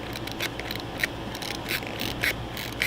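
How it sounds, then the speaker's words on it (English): The film advance lever on a Pentacon Six camera ratchets forward in a series of small, crisp clicks, spaced irregularly and close, over a quiet background. "you're going to take your lever and you're going to go up here and you're going to inch it forward"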